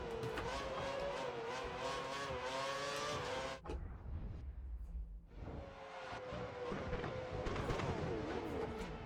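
Screaming engine of a Force India Formula 1 car in the F1 2013 video game, racing wheel to wheel with a Ferrari at the Japanese Grand Prix, revving steadily, briefly dropping away, then climbing back up.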